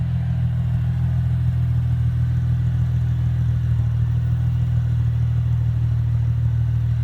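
Exhaust of a 2005 Mercedes C240 fitted with a cheap aftermarket muffler, a steady, loud, deep droning rumble at idle throughout, with no talk.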